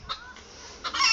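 Chickens at Barshaw Park nature reserve cluck nearby in short, sharp bursts: one brief call, a pause, then a louder run of clucks with no voices over them.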